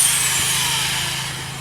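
A power drill spins a polishing disc at about 1500 RPM against a hazy plastic car headlight during wet sanding. It gives a steady, loud, close broadband whir that eases slightly in pitch and volume, with no talking.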